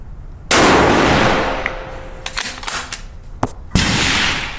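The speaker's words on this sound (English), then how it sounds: "I'm going to shoot a lot of rounds in succession" Rifle shots fired from a Seb NEO X F Class front rest, loud sharp reports with a long ringing decay, one near the start and another toward the end, with smaller clanks and handling noises between.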